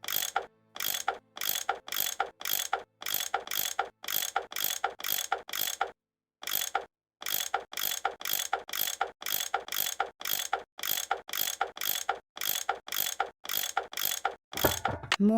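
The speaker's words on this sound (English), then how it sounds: "I bet that's what you use to unscrew these bolts." Tool unscrewing bolts in the Nancy Drew: Last Train to Blue Moon Canyon game, a steady train of loud, evenly spaced ratcheting clicks repeated many times, with one short gap partway through.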